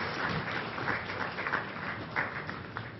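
Audience applause for youth leaders at the inaugural session of a sustainable development summit in New Delhi, a moderate, somewhat distant patter of clapping hands over a few seconds.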